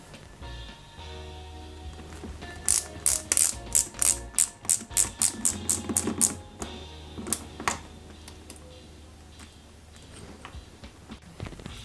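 Rapid run of sharp, bright ratcheting clicks as screws are tightened on a Ghostbusters Ecto-1 model kit, about a dozen evenly spaced ticks close by over a faint background hum.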